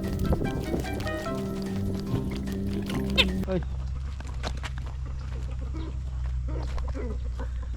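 A fighting rooster clucks and calls close by over background noise, then the scene shifts to quieter outdoor ambience with scattered short sounds.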